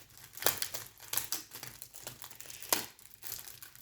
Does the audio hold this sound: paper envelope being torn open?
yes